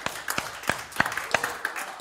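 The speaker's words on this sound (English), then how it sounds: "Give the Lord a hand clap." A church congregation claps their hands together during a worship service, a sparse run of sharp individual claps with gaps between them, fairly close and without voices over them.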